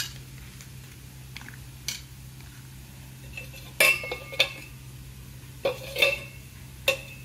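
Chopped tomatoes and green chillies for dosakaya pachadi drop into a metal pan, giving a few sharp clinks and clatters. The knocks are sparse and close, with quiet pauses between them and no talking.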